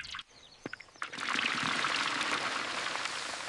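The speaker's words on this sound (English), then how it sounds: "Listen to that sizzle. That's the sound of delicious food." Hot cooking oil sizzles in a pan for a village-style giant fried spicy rice, a steady dense hiss that swells loud after a few sharp pops and continues without talk.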